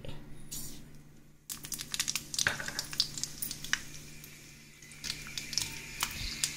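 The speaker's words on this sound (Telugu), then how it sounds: "కుక్కర్ చల్లారేలోపు పోపు అండి దీనికి మనం ఆవాలు మెంతులు ఎండుమిరపకాయ తీసుకోవాలి పోపుకి" Mustard seeds, fenugreek and dried red chillies crackle and sizzle in hot oil for a tempering, with sharp popping bursts and stirring over a steady frying hiss, fairly close.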